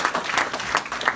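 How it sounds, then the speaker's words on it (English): A brief burst of audience applause at a New York City community event, with a few distinct claps rising out of the clapping. "Please give them a big round of applause"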